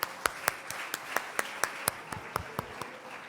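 An audience at the live-broadcast final competition of the 2025-2026 season of the Armenian show 'Ճիշդ հնչենք' gives rhythmic, evenly spaced claps, about four per second, moderately loud with no voices over them.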